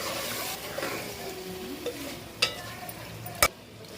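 Ginger-garlic with chilli powder and salt is stirred in a hot pan for a spicy chicken fry, giving a steady low sizzle with a few sharp spoon scrapes and clicks against the metal.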